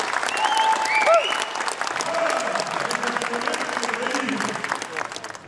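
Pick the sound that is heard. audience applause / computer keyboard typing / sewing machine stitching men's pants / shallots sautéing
audience applause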